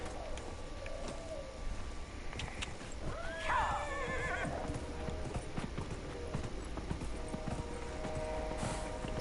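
A horse in the video game Dragon Age Inquisition neighs with a sharp rising whinny, and its hooves clip-clop in a steady rhythm underneath. Ambient outdoor game sound with faint birdsong fills the background.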